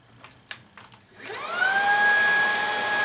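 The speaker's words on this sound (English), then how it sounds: "vacuum's on, lights are on, so power is getting to the head" A Shark ICZ362H Vertex vacuum cleaner with a brush head that won't spin switches on after a few light clicks, its motor whining up in pitch to a steady loud drone.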